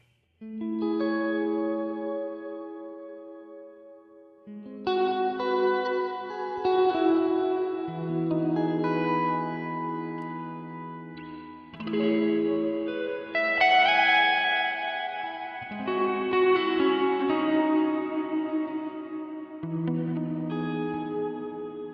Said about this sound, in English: Kind of distorts a little bit in the, it's like a delay, long trail thing.